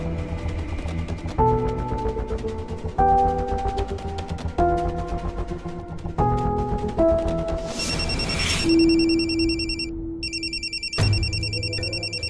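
A telephone ringtone plays repeatedly and goes unanswered, its electronic melody repeating in steady bursts with no voices over it. The ringing sits on top of an ongoing music bed in a Marathi TV drama scene.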